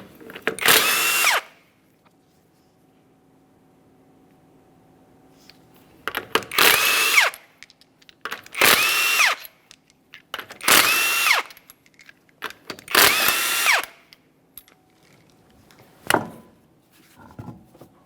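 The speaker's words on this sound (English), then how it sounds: "To remove the wheel, we're going to remove all 5 of our 21mm lug nuts" A power tool spins off the 21mm wheel lug nuts on a 2010-2013 Kia Forte Koup, giving five loud, close bursts of whirring drill noise, each about a second long, separated by quiet gaps and ending with a brief final burst.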